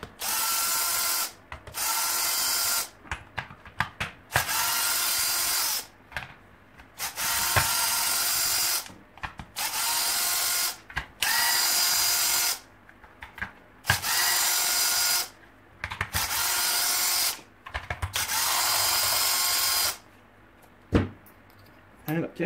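Parkside power tools unscrew bolts while a Parkside hammer drill is taken apart, repeated loud whirring bursts of a few seconds each separated by short pauses, with some clicks and a voice between them.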